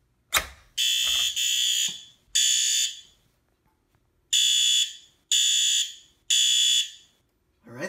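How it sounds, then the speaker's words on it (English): Fire alarm sounding during a system test: loud, shrill electronic tones repeating in blocks about a second long with short gaps between them, near and alone, ending on one low thud. "Alright, the alarm's sounding."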